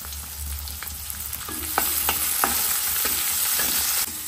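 Chopped onion sizzles in hot oil with garlic and curry leaves in a kadhai as a tempering for an egg curry, giving a steady close hiss broken by several sharp scrapes and clinks of a stirring spoon.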